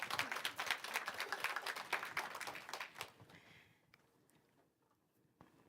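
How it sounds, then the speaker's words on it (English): Audience applause for a hackathon team, a dense burst of clapping that fades out after about three seconds, leaving near-quiet with a few faint stray claps. "Team number 3, a round of applause again."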